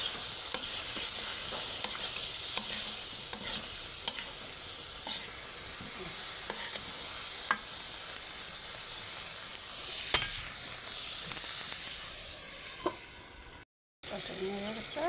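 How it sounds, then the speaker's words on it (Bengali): Mixed vegetable curry of cauliflower, beans, potato and onion greens sautéing in a pan, with a steady sizzle and frequent spatula stirs and scrapes throughout, a brief dropout near the end. "তরকারি কষাইতেছে"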